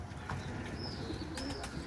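Young Dede Boz pigeons coo softly while bathing, a few low murmured calls over a steady splashy wash, close by with no voices.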